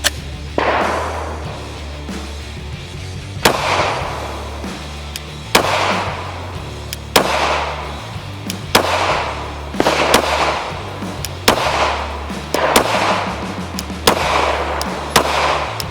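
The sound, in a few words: Gen 4 Glock 17 pistol firing S&B 124 ammunition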